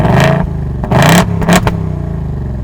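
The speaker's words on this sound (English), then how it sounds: "this sounds a lot louder, and this is a stock exhaust, right?" A 2024 Ford Mustang Dark Horse 5.0 V8 with stock exhaust revs hard in several sharp bursts, each roar rising and falling back to a loud, rumbling idle, close and powerful.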